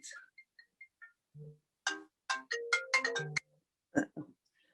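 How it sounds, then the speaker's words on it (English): A mobile phone ringtone plays alone: a short melodic run of bright electronic tones, then a busier chiming phrase and a couple of final notes, quiet and nearby. "Oh, there's my phone."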